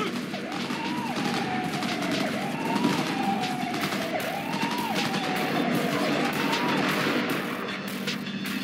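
Gunfire during a car ride in Cyberpunk 2077, with steady, busy shooting that runs under a repeating siren-like wail and the noise of the vehicle. The mix stays at a fairly even level throughout.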